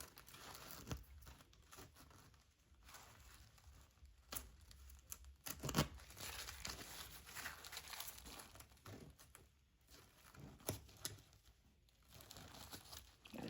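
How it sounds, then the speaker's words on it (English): Glitter heat transfer vinyl is ripped away around satin embroidery stitches on a sweatshirt, giving faint, close crinkling and tearing sounds in irregular bursts with no talk. "Since it's vinyl, I can just kind of rip around the satin stitches."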